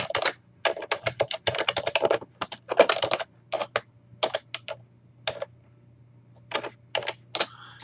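Close, crisp keystrokes on a computer keyboard come in fast irregular bursts, with short pauses between clusters of taps and no voices over them.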